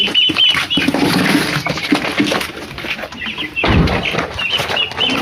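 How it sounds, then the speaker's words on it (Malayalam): Chickens cluck and squawk noisily and almost continuously up close, with a few sharper calls breaking through the busy, steady clamour of the birds. "നീ ആ കോഴി ഇതെടുത്തു. ഭയങ്കര ഒച്ചപ്പാടാ."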